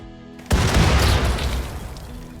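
Doomsday Launcher rockets exploding in RimWorld during a siege, a sudden loud boom after a brief quiet start, followed by a dense rumbling roar of overlapping blasts that slowly fades.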